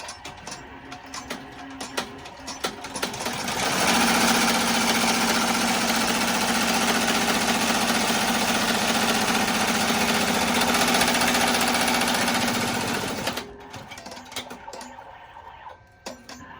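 An embroidery machine stitches through four layers of vinyl for an in-the-hoop sanitizer bottle holder, giving a loud, steady, buzzing hum for about ten seconds between quieter mechanical clicks.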